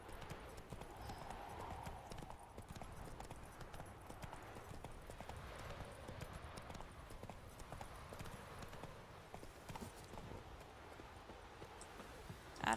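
A horse's hooves clip-clop at a gallop in The Witcher 3, a quiet, steady rhythmic patter that continues throughout, with faint game ambience around it.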